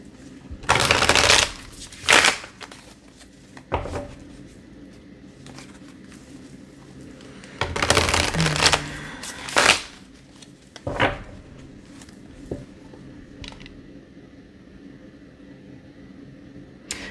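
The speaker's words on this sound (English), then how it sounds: "One more shuffle." A deck of cards is shuffled in several quick riffling bursts spread out over the stretch, with quiet pauses and soft handling noises between them.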